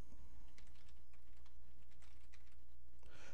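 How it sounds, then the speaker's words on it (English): A password being typed on a computer keyboard, a quick irregular run of light key clicks close by over a low steady hum, with no talking. "Type in my password."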